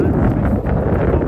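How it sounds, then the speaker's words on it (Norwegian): Loud, roaring gusts of strong wind buffeting the microphone outdoors in Norway, a dense continuous rumble with no pauses. "for det er jævlig mye vind her"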